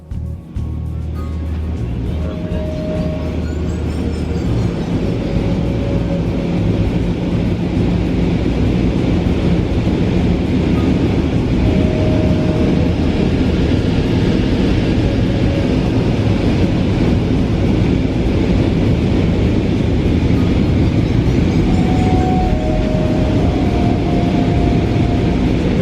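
Cabin of an Air Asia A320 flying from Manila to Puerto Princesa through turbulence, a loud constant roar of engines and airflow that runs unbroken throughout, with faint tonal chimes here and there and no talking.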